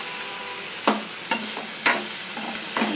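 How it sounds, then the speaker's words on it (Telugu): Boiled potatoes and onions fry in masala with a steady sizzle and hiss, broken by several sharp scraping stirs of a spoon in the pan, close up with no voices. "ఉడికించిన ఆలుగడ్డలు, మట్టికాయలు ఇవన్నీ ఈ మసాలాలో వేగిపోతాయి"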